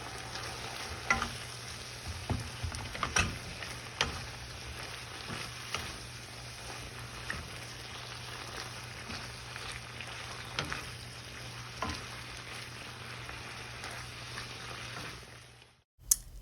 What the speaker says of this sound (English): let's listen to the sizzle